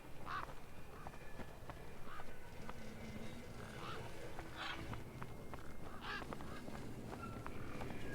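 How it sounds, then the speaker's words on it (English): Bird honking in the video game Beyond a Steel Sky, several goose-like honks spread at irregular intervals over a steady background bed, moderately close and unaccompanied by speech. "I figured out how to lure the bird, major bird here."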